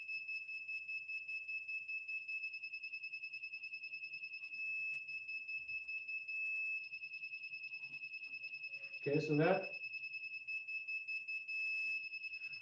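A steady, continuous high electronic tone from an electronic level holds unbroken throughout, with a person talking quietly underneath and a brief louder thump near the end.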